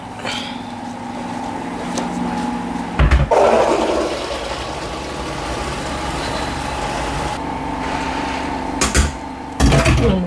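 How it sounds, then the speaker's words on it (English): Water runs strongly from a kitchen tap over beans held in a sieve, a loud, steady rush near at hand, broken by a few clunks and rattles of the sieve being handled, with no talk. "I'm gonna sieve it and"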